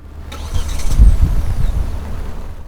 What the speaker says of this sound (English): you can start the car from your phone from the outside